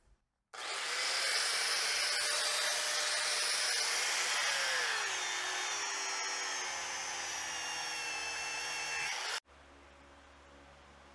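An angle grinder cuts into an old, dry 40-year-old tractor tire by hand, a loud continuous whining roar held steady for about nine seconds with shifting pitch, then cutting off abruptly to a quieter fan hum.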